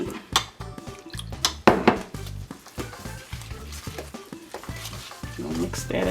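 Cornbread batter made with buttermilk is stirred by hand in a bowl, giving irregular close scraping, sloshing and light clinks against the bowl.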